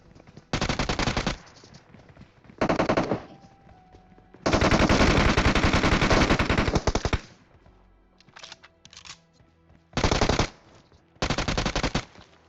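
Automatic weapons fire during a firefight in the mobile battle royale game PUBG Mobile: loud, close bursts of rapid shots, one long sustained volley in the middle and several shorter bursts around it, with quieter gaps between.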